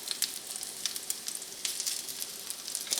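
Small corn fritters frying in a pan of oil, a steady close hiss of sizzling with frequent sharp crackles and pops throughout.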